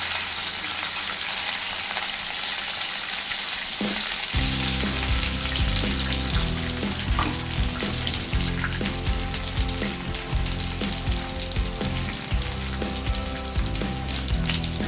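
Ground betel leaf and garlic powder sautés in a hot pan, a loud, continuous close sizzle with stirring scrapes that kicks in strongly after a quieter start.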